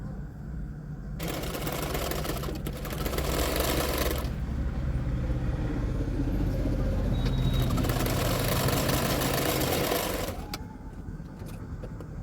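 An electric sewing machine stitches the katori piece of a lined blouse, a steady whirring hum with rapid needle chatter running for several seconds between quieter pauses at the start and end.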